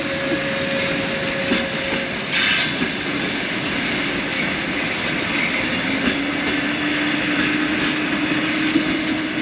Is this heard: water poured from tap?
no